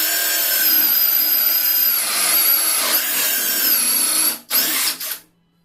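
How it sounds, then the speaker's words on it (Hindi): A brushless cordless drill with a 45 mm bit bores through wood in a loud, steady high-pitched whine, holding speed for several seconds, briefly dipping, then revving once more before stopping. "बट असली परफॉर्मेंस तब टेस्ट होगा जब 45 mm की बिट से होल होगा।"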